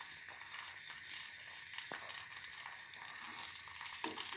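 Butter melting slowly over low heat in a pan for homemade desi ghee, producing a soft, continuous crackling sizzle with faint pops and a small metallic tick, quiet and without talk.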